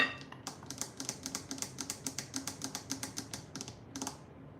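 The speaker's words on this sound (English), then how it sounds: "Chopping it all up." A knife finely chops jalapeno on a cutting board, a quick, even run of crisp taps about six per second that pauses briefly near the end, close and fairly quiet.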